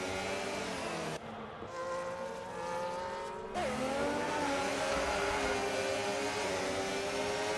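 F2 race cars in a racing video game at the Singapore round: a continuous high engine whine that shifts pitch through the laps, loud and steady, with no talk.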